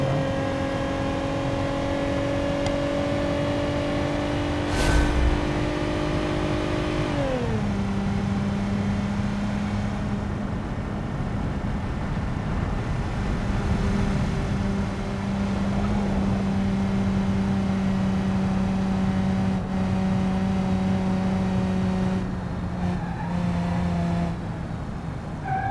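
Engine of a Bruckell LeGran car during a lap in a VR racing game: a steady, droning engine note that shifts pitch as gears change, with sustained revving tones and no talk.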